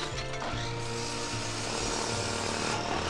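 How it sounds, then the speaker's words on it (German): Game-world sawing and hammering in Thimbleweed Park, busy overlapping workshop noise with a steady mechanical drone and rhythmic tool strokes, loud and continuous with no talking. "Sie sägt. Sie hämmert."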